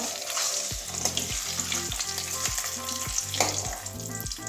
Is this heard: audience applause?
no